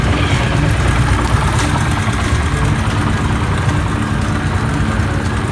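A motorcycle engine idles steadily after an oil change, with a loud, continuous low rumble and vibration throughout and no voices.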